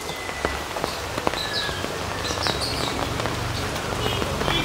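Rain falls in a home garden among potted aglaonema plants, a steady soft patter with scattered sharper drops striking leaves and surfaces, no voices.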